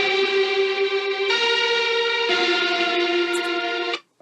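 Soft sustained keyboard pad from a rock song's chorus, layered harmonic chords shifting every second or so, processed with effects, steady and alone before cutting off abruptly near the end.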